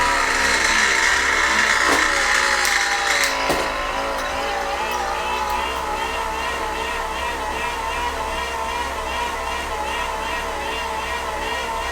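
A cheap indoor bike trainer being pedaled for a Zwift setup gives off a loud, continuous mechanical whir with a tonal hum that rises and falls with effort. A few knocks sound early on, and the noise holds steady for the whole stretch.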